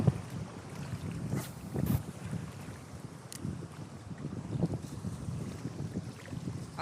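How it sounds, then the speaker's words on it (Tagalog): A headwind blows across a fishing boat at sea, with gusty, fairly faint rushing wind buffeting the microphone and a few sharper knocks and bumps. "Ang problema mga master, pasalubong yung hangin."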